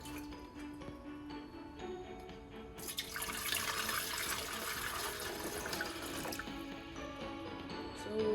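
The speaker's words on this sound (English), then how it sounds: "So I'll open up our kettle and then we'll add in some water." Water splashing into a kettle, starting quietly then rising to a louder continuous pour and trickle from about three seconds on, heard close with faint background clatter.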